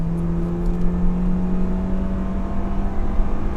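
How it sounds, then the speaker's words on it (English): A car engine accelerates on the road to pass a truck, a steady droning whir with tonal hum and rising rev, close and continuous with no talk. "Hold on, I gotta get past this truck real quick."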